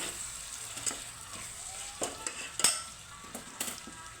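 Chicken sukka masala being stirred in a pan, scraping and clinking of a spoon against metal over a soft background sizzle, close and fairly quiet with irregular strokes.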